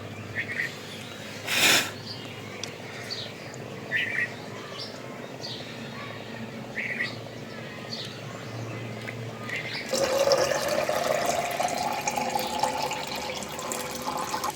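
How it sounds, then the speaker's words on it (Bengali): Old water from a tank is poured during brine shrimp hatching setup, a splashing gush starting partway through after quieter background with birds chirping and a brief clatter earlier. "তো আমি এখান থেকে হাউজের পুরনো পানিটা নিব।"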